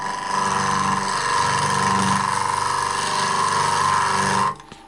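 A power tool spins steadily at about 1400 RPM while cutting a wood piece, giving a loud, continuous whirring drone with a constant pitch that holds for over four seconds and then cuts off abruptly.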